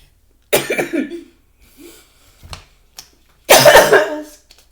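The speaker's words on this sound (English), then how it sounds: "I was trying not to cough on camera." Two loud, close coughs a few seconds apart, with soft breaths and small mouth sounds in between.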